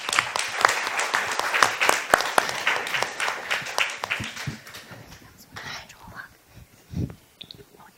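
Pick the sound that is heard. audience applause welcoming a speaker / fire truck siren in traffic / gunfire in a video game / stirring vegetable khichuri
audience applause welcoming a speaker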